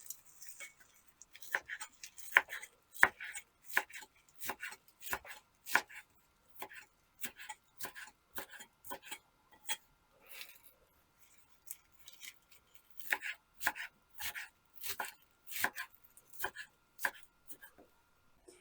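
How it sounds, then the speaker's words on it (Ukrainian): A knife chops spinach into strips rapidly on a cutting board, dozens of crisp close taps in uneven bursts with short pauses between runs. "Далі смужками наріжу шпинат."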